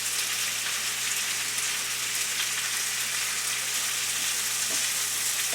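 Squash cooks in a pan on a stovetop with a steady, even sizzle like light rain, continuous and moderately loud throughout with no voices.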